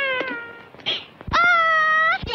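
A cat meows loudly several times in a film scene, with one long, drawn-out wailing meow near the end, close and harsh.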